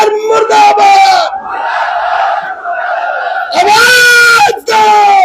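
A large rally of sanitation workers shouts slogans in unison, with loud sustained massed voices rising and falling in waves, a brief lull midway, then a fresh surge of chanting.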